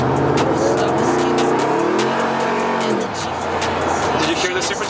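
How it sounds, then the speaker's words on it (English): A Land Rover Defender's supercharged engine accelerates hard with a rising whine over the engine roar, then eases off, while people talk excitedly over it. "Did you hear the supercharger?"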